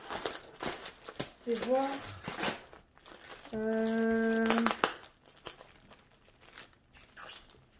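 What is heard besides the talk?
opening a plastic bag of diamond painting diamonds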